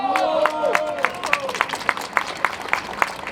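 Rally audience in Paris applauding: loose rhythmic clapping from a crowd under a drawn-out voice calling over it, claps evenly paced and fairly close.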